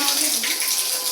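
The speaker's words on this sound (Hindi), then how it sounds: "पानी यहाँ से आ रहा है ऊपर से, यहाँ से होते होते होते होते यहाँ नीचे जा रहा है" At a mountain fair, a stream of water runs down from above in a steady rushing flow, close and continuous, with faint voices underneath.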